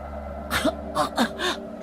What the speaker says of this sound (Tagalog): Umuubo-ubo pa ang dalaga habang hindi inaalis ang tingin sa kaibigan.